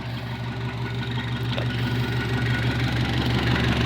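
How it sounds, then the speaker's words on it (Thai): A 1994 Toyota Mighty X pickup engine idles steadily up close, a smooth, even mechanical hum with a low rhythmic throb running throughout, with no talking. "เสียงเครื่องยนต์ นิ่มครับใช้งานได้ยาวนะครับ"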